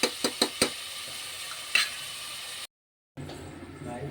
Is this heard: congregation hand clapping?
no